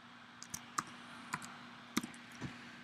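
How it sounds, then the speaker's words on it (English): Keys tapped on a computer keyboard while a security code is entered, a handful of light, sparse clicks spread irregularly across a quiet background. "You can type in your security code,"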